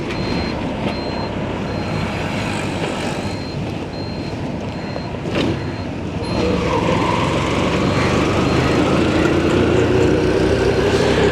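Tuk-tuk auto rickshaw engines on a Sri Lankan city street, a continuous buzzing small-engine drone with passing traffic, rising louder and closer partway through, with a faint intermittent beep in the background.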